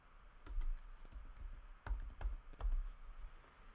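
Keystrokes on a computer keyboard while entering text, a close, quiet patter of irregular taps with a few heavier presses, no voices.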